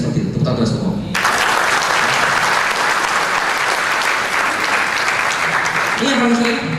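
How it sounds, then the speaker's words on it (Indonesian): Seminar audience bursts into loud, sustained applause that fills the room for several seconds, with brief speech before it starts and again as it fades. "Tepuk tangan semua."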